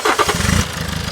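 A 2007 Toyota Avensis D4D diesel engine with a clogged EGR cranks and catches, then runs in a rough, steady chug close by.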